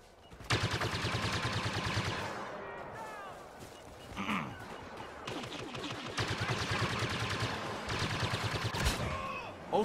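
Rapid automatic rifle fire and bursts of gunshots in the Star Wars: Battlefront video game, loud and near with repeated volleys through most of the span, plus a brief whooshing effect, mixed with other battle noise.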